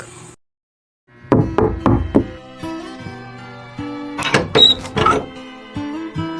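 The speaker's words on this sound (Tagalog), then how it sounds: "ikaw ba'y kumakatok?" Knocking on a door as a radio drama sound effect: a quick run of four sharp wooden raps, then a second burst of knocks, with music underneath throughout.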